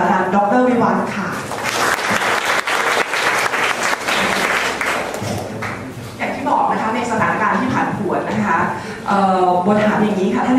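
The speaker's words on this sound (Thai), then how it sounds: "ขอเสียงปรบมือต้อนรับรองศาสตราจารย์ดร.วิวัฒน์ค่ะ" An audience at a Thai diplomacy panel discussion claps loudly and continuously to welcome a speaker. A voice is heard over the dense clapping throughout.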